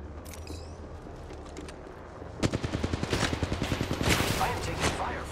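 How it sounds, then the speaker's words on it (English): Enemies open fire in a shooter video game, and a rapid burst of automatic gunfire rattles in steady repeated shots for a couple of seconds. It rises loud over a continuous game background rumble. "The enemies are shooting at me."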